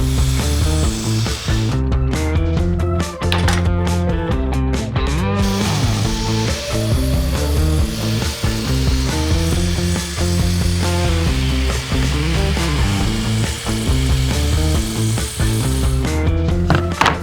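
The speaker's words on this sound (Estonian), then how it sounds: "Selleks kasutame tõmbekapi saagi." A sliding miter saw cuts wooden floorboards and beams for an outdoor garden bench, heard as a loud, continuous whining drone with a rhythmic pulsing texture, close and alone with no talk.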